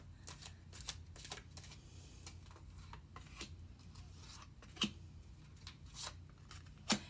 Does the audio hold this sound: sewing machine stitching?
no